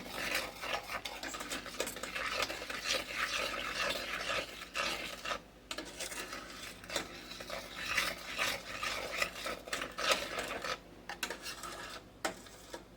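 A spoon stirring chocolate syrup ingredients in a cold saucepan for an old Hershey's chocolate sauce recipe, making steady scraping and rubbing strokes against the metal, with a few brief pauses and no talking.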